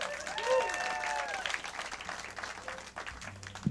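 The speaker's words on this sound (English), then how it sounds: "Give him a round of applause." Audience applause for drummer Caleb Beltneck at a St. Paddy's Day show by Hounds of Cuchulain at The Duncan Showroom, a moderate wash of clapping with some crowd noise and voices mixed in, steady before thinning toward the end.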